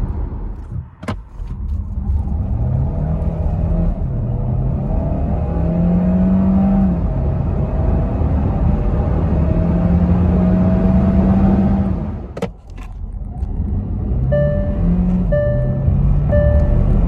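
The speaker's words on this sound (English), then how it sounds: "I'm going to start off by showing you acceleration in the two-wheel drive hybrid" Two-wheel drive hybrid car accelerating, a steady engine drone with rising tones held loud and near throughout, briefly interrupted by a couple of sharp clicks.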